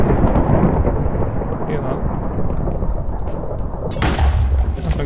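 An explosion in Minecraft gives a loud, heavy boom and rumble, and a sharp, bright burst near the end, heard without talk.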